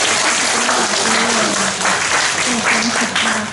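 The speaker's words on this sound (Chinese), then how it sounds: "按键拍手一下" An audience applauds at a university social work students' summer project presentation, a full burst of clapping with a voice talking over it.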